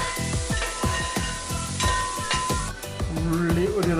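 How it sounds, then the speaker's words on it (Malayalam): Chopped onions, about a quarter kilo, sizzle steadily in hot oil while a utensil stirs them toward brown, with repeated scraping strokes over a continuous bright frying hiss, close and fairly loud. "നല്ല ബ്രൗൺ കളർ ആവുന്നതിൽ ഇളക്കിക്കൊണ്ടിരിക്കുക."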